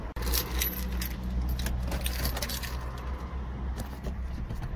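Car keys for an MG ZR jangle and clink for several seconds in a garage, a metallic rattling over low background rumble, with no talking.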